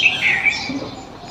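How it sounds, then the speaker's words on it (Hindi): Bright bird chirps and tweets, close and fairly loud, with a faint low background murmur. "चिड़ियों की आवाज़, पक्षियों की आवाज़ सुने।"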